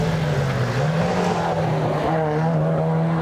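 A Datsun race car at a lakeside hillclimb, heard close and loud: a buzzing engine note that holds, dips and climbs again as the driver works through the gears.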